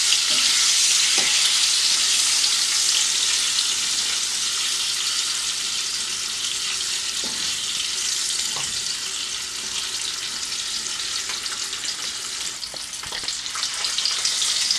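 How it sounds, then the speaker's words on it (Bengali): Eggs sizzle and crackle as they are stirred and fried in a pan for Bengali egg curry, a loud, continuous, close-up frying hiss with occasional scraping taps of the spatula. "এবার ডিমগুলো ভালো করে নাড়াচাড়া করে আমি ভেজে নেব, কালারটা সুন্দর হওয়ার জন্য।"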